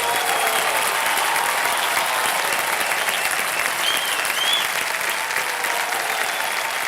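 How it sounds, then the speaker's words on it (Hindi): Loud, sustained studio audience applause on the Kaun Banega Crorepati game show set, a thick wash of many clapping hands that holds constant throughout with no pause. "तालियां बज जाएं इनके लिए एक बार फिर से"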